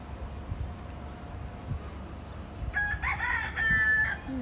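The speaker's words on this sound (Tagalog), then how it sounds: "Tilaok na naman." After a quiet stretch of faint background noise, a rooster crows loudly nearby, one long drawn-out call in the final seconds.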